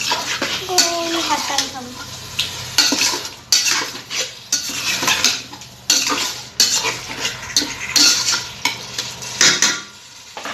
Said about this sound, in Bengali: আমি এখন গরম মশলাটা সুন্দরভাবে কষে নেব যত সুন্দর করে কষবো ভালো করে কষবো তত স্বাদ হবে বেশি খেতে